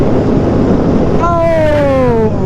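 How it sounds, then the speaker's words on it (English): Ducati motorcycles ride past on a windy road during a funeral escort ride, their engines rising into a whining pass-by halfway through over steady wind buffeting. "Oh, look at Ducatis."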